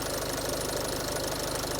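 A Nissan Qashqai dCi diesel engine idles with a roller or bearing noise, a close, steady rhythmic clatter and hum running without pause and with no voices over it.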